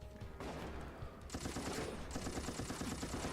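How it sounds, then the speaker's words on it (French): Assault rifle fire in the Resident Evil: Operation Raccoon City video game, a loud, dense run of rapid automatic bursts starting after a brief lull and continuing steadily, with no talk. "Là, j'ai ramassé un fusil d'assaut"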